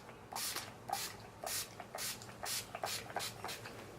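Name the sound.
spraying Scandinavia setting spray on face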